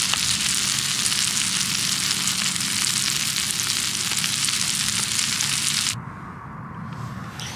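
Steady, loud sizzling and crackling of meat frying close by in a small pan outdoors at a riverside camp, continuing for several seconds before suddenly dropping to a quieter hiss.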